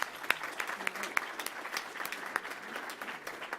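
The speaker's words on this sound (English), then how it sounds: "we're going to clap for all of them because we love new members" A gathering claps for new members at a civic club meeting, light scattered applause from a modest crowd with a few sharper individual claps, fairly quiet and continuous.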